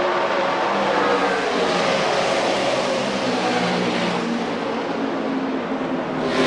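NASCAR stock cars race past on an oval track with a loud, continuous engine roar. The dense, sustained drone of several cars holds steady throughout.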